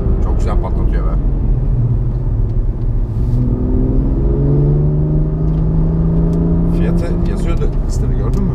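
On a race track, a BMW M2 engine revs and pops, a loud, close interior drone that rises steadily in pitch, with bursts of crackle near the start and end and people talking throughout.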